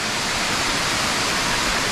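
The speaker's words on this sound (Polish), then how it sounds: "Patrzcie, jaki wodospad ładnie tu sobie wygląda." Kamieńczyk waterfall at Szklarska Poręba, a steady dense rush of falling water filling the whole clip at an even, close, loud level with no voices.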